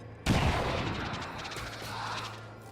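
A grenade blast goes off in XCOM 2 with a sudden loud boom and a burst of rattling gunfire, then a long rumbling debris tail that slowly fades over the next two seconds.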